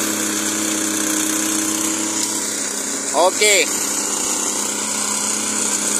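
The engine of a T14-S50 soil scraper, a 50 cm disc machine for clearing oil palm plantation circles that drives itself through a gearbox, runs in a steady, loud, even drone throughout. A voice speaks briefly near the middle.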